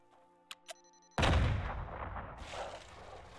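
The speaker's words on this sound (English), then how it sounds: "It's exploding everywhere." Explosives detonating in the survival game The Front: two faint sharp pops, then a loud booming blast that rolls into sustained crackling rumble and debris, close and heavy.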